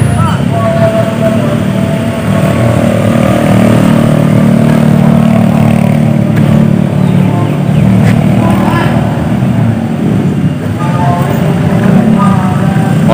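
Motorcycle engines drone steadily on a steep uphill road in jammed traffic, a continuous low rumble close by, with voices talking over it throughout.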